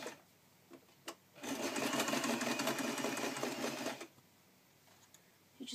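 A sewing machine runs a straight stitch through fabric with elastic, a steady fast whirring hum of about two and a half seconds, framed by soft clicks before and after.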